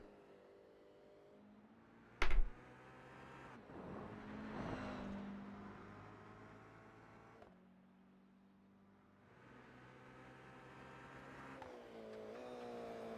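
A race car laps the Okayama full circuit in a racing video game, its engine droning and rising through gear changes, with one sharp loud knock early and repeated revving swells.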